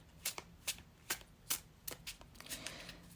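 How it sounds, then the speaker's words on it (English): A deck of tarot cards being shuffled by hand, with a series of crisp riffling bursts spaced roughly every half second, close and fairly quiet, without any speech. "let's shuffle with intention"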